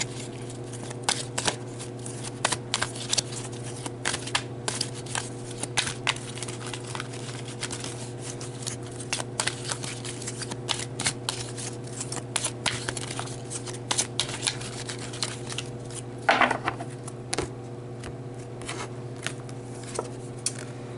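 Tarot cards are shuffled by hand, a continuous rapid riffling and patter of card stock with brief louder flurries, close and steady with no voices over it.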